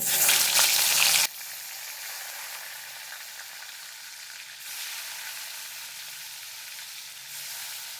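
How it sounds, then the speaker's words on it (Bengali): Fish hits hot oil in a wok with a loud burst of sizzling, then settles into a steady, softer frying hiss that swells slightly now and then, close by with no speech. "তেলটা গরম হয়ে গেছে আমি মাছগুলো দিয়ে দেবো"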